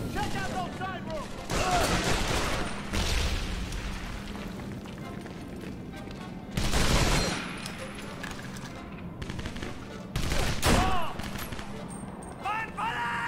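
Gunfire rattles through a battle in the video game Medal of Honor: Vanguard, with bursts of automatic fire and heavier blasts at irregular intervals, set against a steady hum and someone talking.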